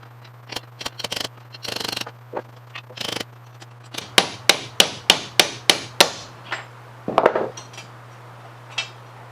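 Rivet hammered out of a 1930s sled: a quick burst of light taps, then a run of about eight evenly spaced loud metallic hammer blows close by, a few scattered knocks after, over a low steady hum.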